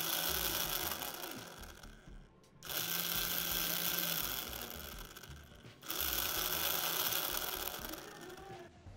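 A small DC motor, switched into reverse through a DPDT toggle on a Roborace robot, whirs with a steady mechanical buzz. It cuts out briefly twice, near 2.5 and 5.8 seconds, then restarts. There is no talking.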